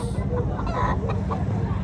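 A rooster at a chicken expo in a public market in Cebu City clucks a few times close by over a noisy market background, with voices around it.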